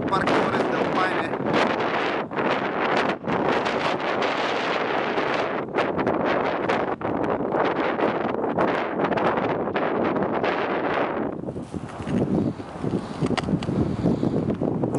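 Strong wind roars and buffets the microphone continuously, loud and close, with gusts surging throughout, in the French Valley of Torres del Paine National Park, Chilean Patagonia.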